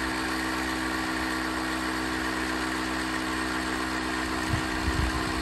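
Air suspension pump on a 2005 Honda VTX 1300 motorcycle running with a steady, loud mechanical drone and hum that holds evenly throughout, with a couple of faint low thumps near the end.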